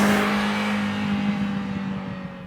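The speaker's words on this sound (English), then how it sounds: "when you're revving through the RPMs, you're revving through the gears" A 1985 Ferrari 308 GTS engine revs loudly and steadily, holding a high droning pitch that slowly eases off, with no voices.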